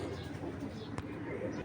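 A Hurricane hen of the Giribaz pigeon breed gives low, soft cooing in a quiet setting, faint and repeated, with a brief louder click near the middle.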